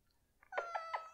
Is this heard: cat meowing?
yes